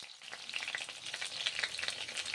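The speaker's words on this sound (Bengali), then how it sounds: "পটলগুলো ভেজে নিচ্ছি গরম তেলে" Pieces of pointed gourd (potol) fry in hot oil, a bright, close hiss of fine crackles and spattering pops that rises and falls steadily without any voices.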